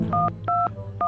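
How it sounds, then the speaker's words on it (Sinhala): Telephone keypad tones from a cartoon scene: three short, evenly spaced beeps, each a clear two-tone note, sounding over a faint low background hum. "ඩයල් වෙනවා."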